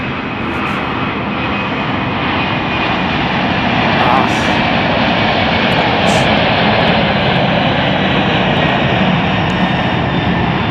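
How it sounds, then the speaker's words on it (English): A Kalitta Air Boeing 747 takes off at Chicago O'Hare, its loud jet roar rolling on steadily for the whole stretch, with voices talking over it. "Well, I think we just missed a 747 takeoff"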